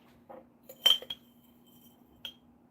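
A metal teaspoon is picked up and clinks against glass and dishes while a herbal tincture is being made, giving a few light, close metallic taps and one brighter chink, with quiet pauses between them.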